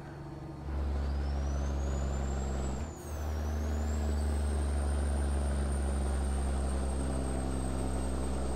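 A steady low engine drone of a Peterbilt-style truck hauling a wine tanker in American Truck Simulator runs throughout with a brief dip, joined by a rising and falling high whine; no one speaks.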